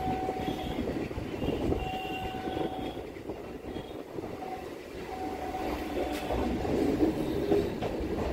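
A Sealdah to BBD Bag local train runs along its line with a continuous loud rumble and rail clatter. Drawn-out horn tones sound several times over the noise.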